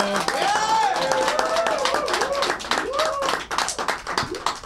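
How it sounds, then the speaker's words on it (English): Audience applause at a live gaming show, steady clapping from a crowd with cheers and whoops rising over it throughout. "I'm going to hold up the applause sign."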